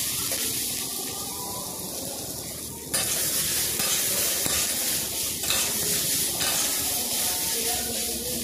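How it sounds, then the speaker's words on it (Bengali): Pumpkin frying in a pan with a little turmeric, a continuous loud sizzle and hiss that steps up sharply a third of the way in as stirring continues, close and steady throughout. "দেখে নাও, বেশ ভালো করে আমি ভেজে নিচ্ছি"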